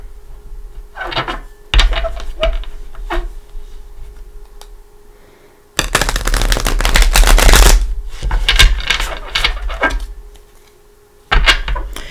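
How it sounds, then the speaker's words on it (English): Tarot cards are shuffled in quick crisp riffling bursts, several separate rounds with short quiet gaps between, close and fairly loud. "Give it one more shuffle."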